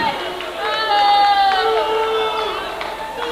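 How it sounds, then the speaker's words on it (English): A crowd in a high school gym at a boys' JV and varsity basketball game reacts loudly to a charging call, with raised voices and shouts swelling and then easing off. "You can hear the crowd. They don't like that call."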